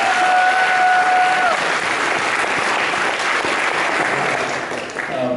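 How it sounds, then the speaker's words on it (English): Sustained audience applause for 2019 graduates at a UCLA Asian American Studies commencement ceremony, a dense, steady clapping from a large crowd filling the whole stretch and tapering slightly at the end. "Let's give them another big round of applause."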